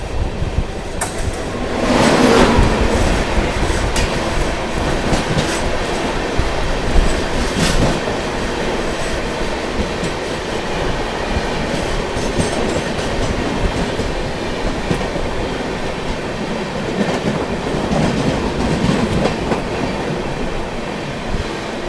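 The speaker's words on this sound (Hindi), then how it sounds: "सामने से आ रही है Chhatrapati Shivaji Maharaj terminus Patna superfast express, CSMT Patna superfast" The CSMT Patna Superfast Express passes close by, a loud sustained roar of wagons and rattling wheels on the track for the whole stretch, with a sharp burst near the start.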